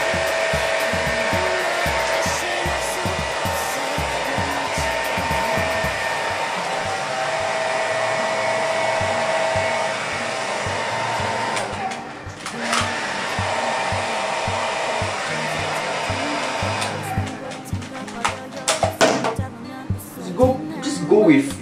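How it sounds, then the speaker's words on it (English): A hair dryer blows steadily at close range, its whirring airflow shifting as it moves, with a voice talking over it and the blower fading near the end. "you want to use the hair dryer to mold the shape properly and put it into place"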